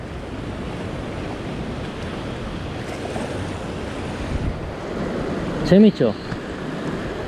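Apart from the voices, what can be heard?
strong ocean waves breaking on the shore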